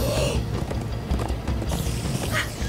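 Horses gallop hard in Minecraft: Story Mode, rapid rhythmic hoofbeats pounding close up with a clattering, mechanical edge and a brief whinny, all mixed under game effects and no talking.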